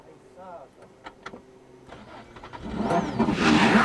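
A damaged Subaru rally car at Rally de Portugal 2009, back on its wheels after a roll, its engine rising into a loud, rough rev toward the end, preceded by quieter knocks and a voice.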